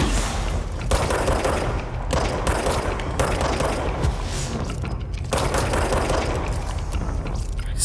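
Gunfire in the video game Control comes as loud, dense, sustained bursts of rapid shots with heavy booming impacts, broken by a few brief pauses over about eight seconds.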